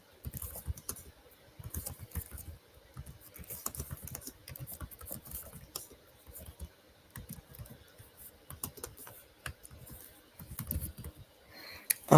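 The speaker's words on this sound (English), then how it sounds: "I can't type tonight for some reason." Fingers tap away on a computer keyboard in quick, irregular bursts of soft clicks with short pauses between runs, close and fairly quiet.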